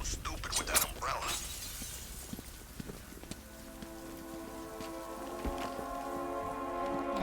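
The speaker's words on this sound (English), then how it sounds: "What's with the rain?" Steady rain falls in Batman: Arkham Knight outside a diner in the city, a continuous hiss of patter with a few louder splashes early on, under game music and no talk.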